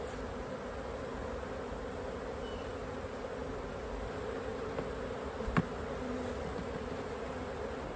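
Honey bees buzz steadily around an open hive as they are brushed off a frame, a continuous low drone close by with a couple of faint knocks partway through.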